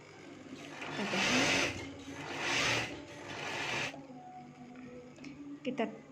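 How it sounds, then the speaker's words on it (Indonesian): Sewing machine stitching the side seam of a simple dress, two swelling bursts of close mechanical whirring about a second each, followed by quieter handling noises. "kita jahit biar lebih gampang menjahit, supaya nanti rapi ya teman-teman jahitan samping tadi"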